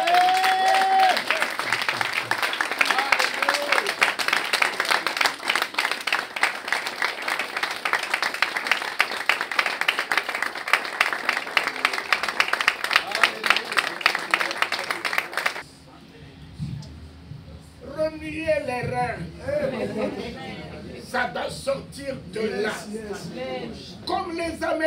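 A church congregation claps and cheers in a dense, lively burst for about fifteen seconds before it cuts off and a preacher starts speaking.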